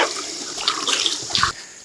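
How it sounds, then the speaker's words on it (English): A net lifted out of a shallow stream after the sand has been stirred up, water pouring and splashing off it for a second or so before stopping abruptly. "you want to stir up the sand really well, and then bring the net up like this"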